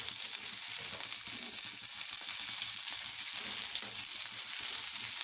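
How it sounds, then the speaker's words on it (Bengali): Pieces of fish sizzle steadily in hot oil in a home kitchen, a dense, even crackle that holds close and loud throughout with no voices. "এপিট ওপিট দুপিট হালকা লাল করে ভেজে নিচ্ছি"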